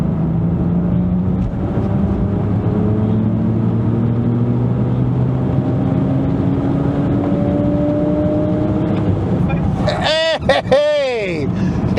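A high-mileage junkyard BMW accelerating hard through third gear: a loud, steady engine drone with rising pitch as revs climb, wind and road noise throughout, and a burst of squealing or tonal sweeps near the end.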